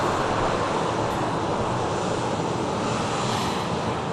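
A six-year-old EasyJet A320 arrives from Bordeaux, its engines sending a loud, continuous broadband roar across the airfield with no voices over it.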